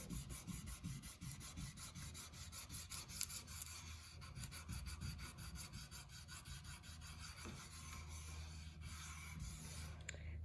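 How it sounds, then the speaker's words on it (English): Squeegee or tool burnishing transfer tape onto a vinyl stencil, giving a steady, close rasping rub with rhythmic strokes throughout and no talk. "You just put it on like this, burnish it in"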